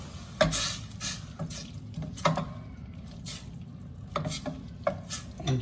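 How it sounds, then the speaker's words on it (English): Vegetables sauté in a pan for beef chimichanga filling: a soft, close frying hiss with sharp clatters and scrapes of a spoon against the pan at irregular intervals, no voices. "saute this until it's tender"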